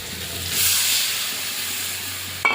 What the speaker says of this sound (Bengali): কষানো হয়ে গেছে এবারে জল দিয়ে দেবো